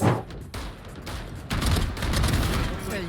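Valorant gameplay gunfire comes in bursts, with rapid shots layered over a dense background. The firing grows heavier toward the end while a player shouts excitedly over it.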